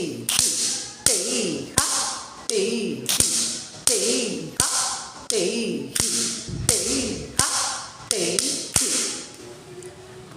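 Rhythmic foot stamps during Bharatanatyam adavu practice, a dancer striking the floor in a steady repeating pattern of sharp slaps, each followed by a brief decaying tail, with faint vocal rhythm syllables underneath.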